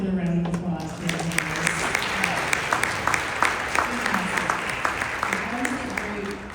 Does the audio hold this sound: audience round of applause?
yes